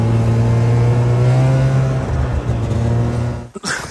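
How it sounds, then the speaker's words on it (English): A snowmobile engine idles and hums loudly and steadily up close on an ice camping trip, holding a constant low drone before dipping and cutting out near the end. "Just park the snowmobile"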